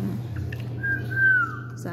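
A single high, drawn-out whistle rises and wavers for about a second, clear over a low steady hum, from a pet cockatiel.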